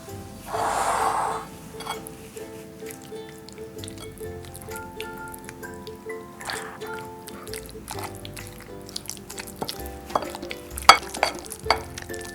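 Sardine filling for a club sandwich being mixed in a bowl, with soft wet squishing and stirring sounds that continue steadily, a brief hiss at the start and a few sharper clicks toward the end.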